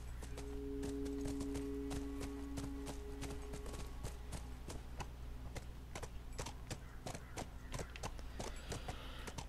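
Horse hooves clop steadily and quickly while riding in the video game The Last of Us, a continuous rhythmic beat over low ambient rumble.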